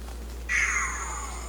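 A cat gives a single clear, fairly loud meow at close range during a visit to someone's home, rising and then trailing off against a quiet background.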